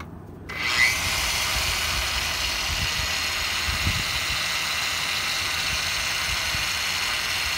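A trigger-operated power polisher with a locking trigger runs steadily at about 1,000–1,400 RPM on a Camaro wheel, spinning up after a brief quiet start into a constant, even whir with no talk.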